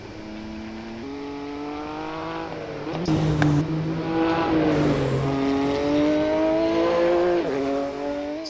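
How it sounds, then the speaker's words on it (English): A turbocharged race car in Assetto Corsa revs hard through repeated upshifts, its rising engine note joined by a turbo whine and sharp wastegate chatter between gears, loud and continuous. "I particularly think the sound in that car, with that wastegate and the turbo whine, is brilliant"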